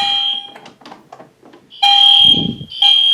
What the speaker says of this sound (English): Yeah, the horns are out of sync,